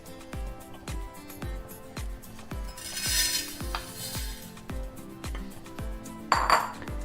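Vermicelli dry-roasting in a heavy uruli pan, a spatula scraping and knocking against the metal in a steady rhythm of about one stroke per second, with a brief brighter rattle near the end.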